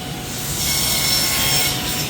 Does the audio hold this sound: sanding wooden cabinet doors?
yes